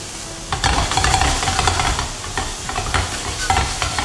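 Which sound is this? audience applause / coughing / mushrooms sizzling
mushrooms sizzling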